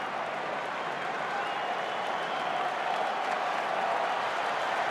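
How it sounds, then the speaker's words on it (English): Baseball stadium crowd during a White Sox at Cubs game, a broad steady murmur and scattered clapping rising into a buzz, distant and continuous with no voices picked out. "Crowd starting to buzz"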